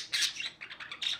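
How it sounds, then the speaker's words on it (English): Pet budgies chirp and squawk indoors in a living room, a busy run of short, bright, scratchy calls in quick uneven bursts, fairly close. "you can kind of hear them in my room, in the living room, and they're chirping"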